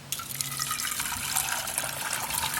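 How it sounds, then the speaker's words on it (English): Hot grease draining out of a pot held tilted against its lid into a sink, a continuous close pouring and trickling hiss lasting a few seconds with no talking. "I'm going to pull on the handle of the pot just as hard as I can and drain my grease out."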